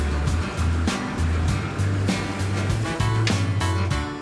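Water rushes and splashes steadily against a moving hull, with a low engine drone underneath and rhythmic surges of spray.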